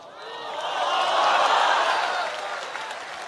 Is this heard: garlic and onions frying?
no